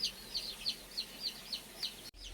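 A country hen sitting on eggs gives a quiet, steady run of soft clucks, about eight evenly spaced calls close by with no other sounds around.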